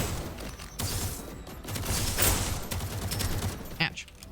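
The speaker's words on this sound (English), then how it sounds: "I kind of want to just toss some grenades and throw caution to the wind." Grenades and gunfire in the video game Deadzone: Rogue, several sharp bursts and blasts over about four seconds, loud and close.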